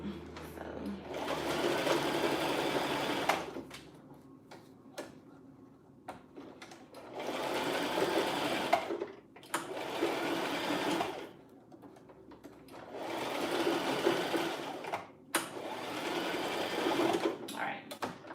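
A sewing machine stitching a band onto a wig runs in several long, steady whirring bursts separated by short pauses, close and clear, with someone talking at times.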